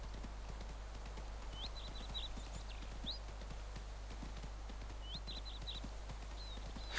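Horse hooves clip-clop steadily at a walking pace while riding in the video game Ostwind on Switch, moderately faint and alone, with a low hum beneath and brief chirpy calls overhead.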